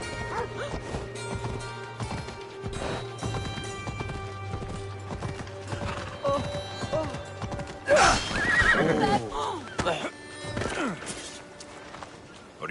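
A horse in Assassin's Creed Odyssey neighs loudly with a rising whinny over rhythmic clip-clopping hooves, set against a steady game ambience with a dog-like bark and a crash mixed in.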